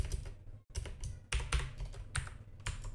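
Typing PHP code on a computer keyboard: a close, quick run of light key clicks in uneven bursts with one short pause, no voices.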